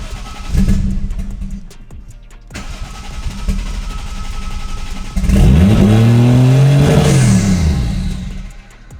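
A 1JZ engine in an IS300 car, with a drive-by-wire pedal sensor problem and low idle, cranks and catches, idles roughly, then revs up loudly in rising and falling sweeps before settling back.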